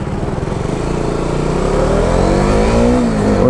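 A lorry passes on a highway in Madhya Pradesh, its heavy engine droning loudly and steadily with a rising whine as it goes by, recorded alone without talk.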